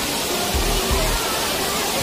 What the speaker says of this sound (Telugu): ఇక్కడ పైన ఇంకొక వాటర్ఫాల్స్ సైడ్ నుంచి వాటర్ ఫ్లో అవుతుంది.